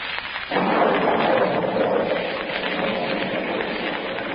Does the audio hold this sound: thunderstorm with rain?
yes